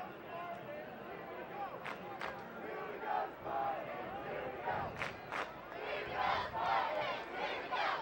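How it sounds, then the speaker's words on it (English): A football crowd at DiSanto Field fills the stands with a steady roar of voices and shouts, swelling in loud bursts with sharp whistles and cheers over continuous babble. "Crowd coming to life here at DiSanto Field."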